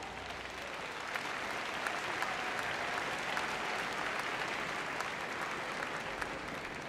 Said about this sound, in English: So our big round of applause please for our judges, Lynn Shaw.